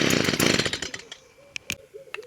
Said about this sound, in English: Next, we're going to pull on the machine until it starts and dies.